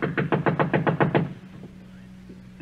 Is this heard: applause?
no